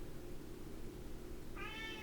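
Voodoo, a pet cat, lets out a single short meow near the end after a quiet stretch of low room hum, clear but modest in level.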